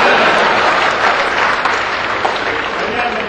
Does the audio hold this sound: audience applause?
yes